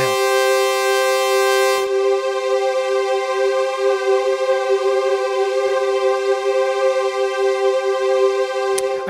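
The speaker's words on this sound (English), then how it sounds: "This is creating a chorusing effect on your wet signal." A sustained tone run through Ableton reverb with chorusing on the wet signal, a loud, steady buzzing chord that holds for about nine seconds with a slight shimmer and no voices.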